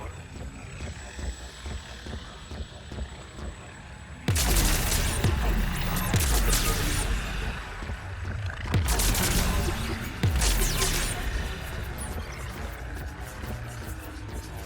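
Heavy gunfire and combat bursts in the video game Mass Effect 3, starting abruptly after a quieter stretch and coming as loud, dense volleys with brief lulls, over a steady background hum.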